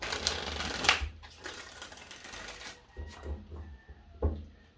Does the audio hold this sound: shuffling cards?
yes